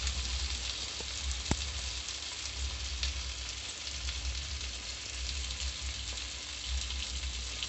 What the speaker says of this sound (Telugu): కొత్తిమీర వేసినాక కలుపుకుందాం.